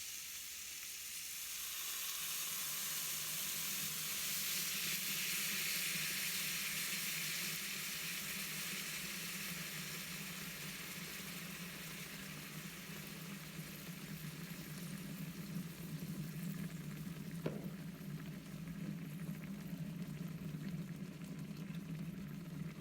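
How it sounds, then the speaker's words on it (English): Samuel Adams Jack O Pumpkin Ale poured over braising chicken in a hot pan, a loud steady sizzling hiss that swells then settles into a continuous bubbling fry, with one brief clink midway. "You're gonna add in the beer. This is Samuel Adams Jack O Pumpkin Ale, and it says to add all 12 ounces."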